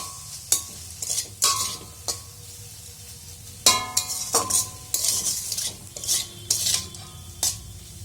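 A spatula scrapes and clanks against a pan as leafy greens with shrimp are stir-fried, sharp metallic strikes at an irregular rhythm over a soft, steady sizzle, close and without talk.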